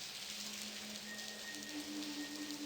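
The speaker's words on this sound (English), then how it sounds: "Man, I hate the rain. The raindrops go right through me." Rain in the adventure game Blackwell Convergence patters in a soft, steady hiss, with a faint sustained hum beneath and no talking.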